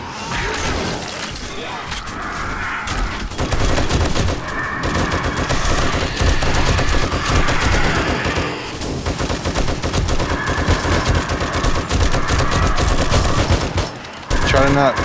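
Gunfire in the video game 7 Days to Die with the Darkness Falls mod during a horde night, including 7.62 ammunition. Dense, loud bursts of rapid automatic shots with cracks and shattering impacts continue almost throughout.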